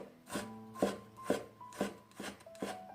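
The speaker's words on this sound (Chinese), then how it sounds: "给它切成姜末" A knife mincing fresh ginger on a board, six rhythmic rasping chops about half a second apart, close and clear, with a faint tonal hum in the background.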